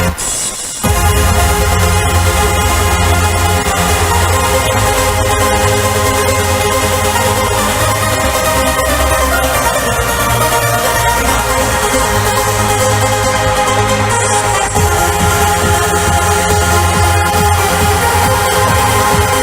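Trance anthem track with its offbeat section removed, a loud dense electronic mix with sustained synth layers and a steady pulsing beat throughout.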